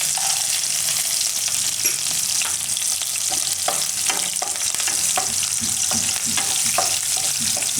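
Cashews frying in hot oil in a pan, with a dense, steady sizzle and repeated stirring clicks against the pan, close and fairly loud throughout.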